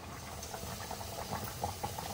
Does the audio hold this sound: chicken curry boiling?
yes